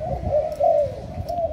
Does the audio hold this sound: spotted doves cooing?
yes